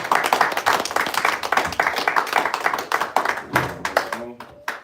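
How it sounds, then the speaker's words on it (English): Clapping from a congregation-style audience at a spirited lecture gathering, dense and lively for most of the stretch, with voices calling out over it before it thins near the end. "Clap it up one more time."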